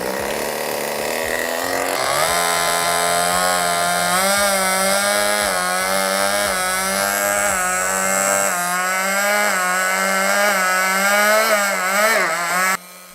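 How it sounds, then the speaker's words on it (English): A gas engine driving a Tesla coil runs loud and close, its buzzing drone dipping and recovering in pitch as the load rises and falls, with rapid crackling sparks through much of it before it cuts short at the end. "the motor loads down until it recharges the capacitors again"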